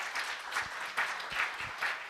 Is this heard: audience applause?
yes